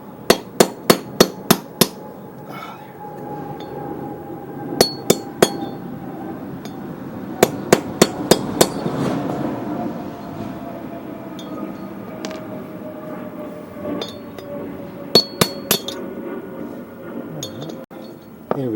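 Sharp metallic hammer strikes on a part of a Toro SR4 Super Recycler lawn mower during restoration, coming in quick bursts of several ringing blows separated by pauses, close and loud over a low background hum.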